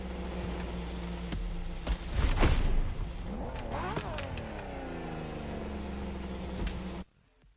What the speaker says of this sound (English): And I'm gonna grab the engine sounds too.